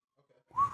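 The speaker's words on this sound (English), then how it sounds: "Had a whistle just now" A short, clear whistled note from someone on a podcast, starting after a near-silent moment and holding a steady pitch for a fraction of a second.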